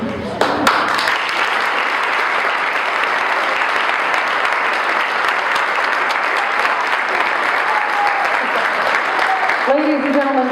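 A live storytelling event audience gives a long, loud round of applause that holds steady throughout. A few voices and cheers are mixed in, and a brief vocal sound comes near the end.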